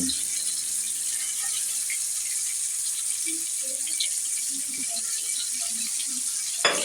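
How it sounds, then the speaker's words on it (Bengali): Blended chana dal frying in oil over medium heat, a steady soft sizzle with small scattered bubbling pops and a brief clatter near the end. "মিডিয়ামে রেখে আপনারা এটাকে তেলে দিয়ে ভেজে নেবেন"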